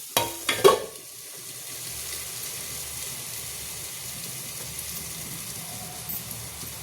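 A dry green-banana vegetable dish cooks on low heat in a pan, with a soft continuous bubbling and sizzle. It follows a few brief clatters at the start.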